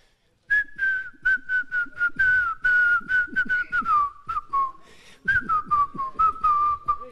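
A man whistles a bright, wavering melody, loud and near. The tune comes in quick phrases with short gaps, and it goes over crowd noise from a TV program.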